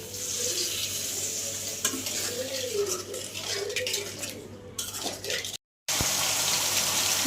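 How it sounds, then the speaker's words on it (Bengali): Spices with coriander powder and a little water are stir-fried for a rohu fish kalia, with a continuous sizzle, scraping spatula strokes against the pan and a brief dropout before the frying resumes. "একটু জল দিয়ে ভালো করে কষিয়ে নেব"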